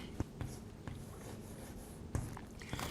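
An equation is written on a board in a quiet room, with faint scratchy strokes and a few sharp taps as the marker or chalk touches down.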